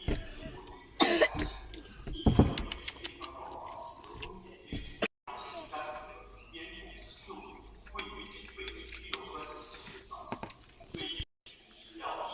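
A young child with pneumonia coughs inside a car, with two sharp, harsh bursts near the start and fainter coughs and throat noises later, while adults talk quietly in between.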